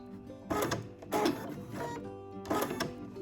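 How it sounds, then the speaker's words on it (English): A sewing machine stitches a garment waistband in short back-and-forth bursts to lock the seam. There are three brief runs of mechanical whirring at a quiet, close level. "then forward stitch, back stitch, and it's locked."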